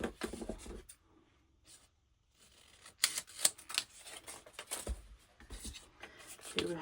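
Paper being cut for a handmade Christmas journal, with crisp scissor snips and paper rustles arriving in bursts, a quiet pause in the middle, then more snipping and handling close by.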